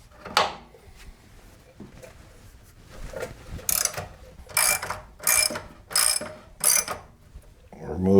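Ratchet wrench loosening the upper control arm bolts on a 2000 Chevy Silverado's front suspension: bursts of close, rapid metallic clicking, several in a row with pauses between, plus a few clanks and scrapes.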